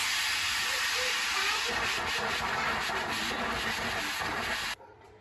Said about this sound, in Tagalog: Tanggalan lang natin ang pressure.